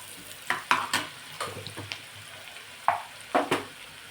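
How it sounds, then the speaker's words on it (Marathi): Finely chopped onion frying in oil while being stirred in a pan, a low sizzle punctuated by several sharp scraping and clinking strokes of the spatula, close up. "बारीक कापून घ्यायचा कांदा सोनेरी रंग येईपर्यंत तेलामध्ये परतून घ्यायचा"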